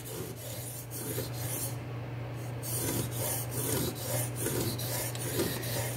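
A knife is sharpened on the 1000-grit side of a King whetstone using a DMT aligner guide, giving a steady run of close, gritty scraping strokes repeated in an even back-and-forth rhythm with no talking.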